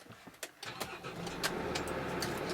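A Hymer MTL motorhome's engine cranks after a few clicks and thumps, then catches and settles into a steady low idle rumble, recorded from inside the cab.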